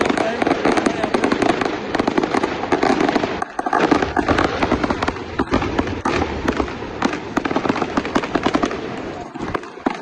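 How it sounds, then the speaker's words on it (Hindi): Fireworks display at the Boonton firemen's carnival at night, with dense continuous crackling and popping bursts, loud and sustained, a few deeper booms, and a voice talking over it. "कार्निवल का फायर वर्क हो रहा है।"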